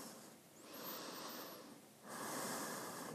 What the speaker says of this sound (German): Dann hier weiter atmen.